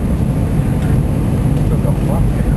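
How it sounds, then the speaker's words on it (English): Steady, loud low-frequency drone inside the cabin of a light aeroplane flying across to Liverpool, continuous engine and airflow noise filling the whole stretch with no breaks. "I'm flying the aeroplane just across to Liverpool"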